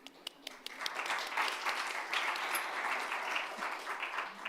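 An audience at a conference session on circular economy policy breaks into steady applause, a dense wash of many clapping hands heard from across the room, opening with a few separate claps and then holding level.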